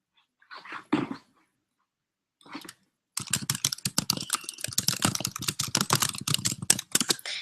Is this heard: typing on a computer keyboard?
yes